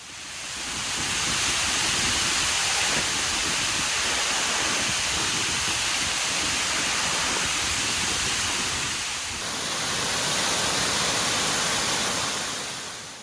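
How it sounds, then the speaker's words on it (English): Water pours steadily down the Derwent Dam wall into the runoff channel below, a dense, continuous roar of cascading water heard close up from beneath the eastern tower, with a brief dip in loudness partway through. "watching the water cascade down to the runoff channel"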